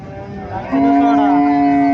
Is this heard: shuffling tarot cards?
no